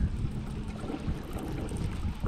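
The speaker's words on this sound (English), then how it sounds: "Ooh, it's windy here." Gusty wind buffets the microphone while kayak fishing on the California Delta, a steady low rumbling roar with lapping water underneath, no talking.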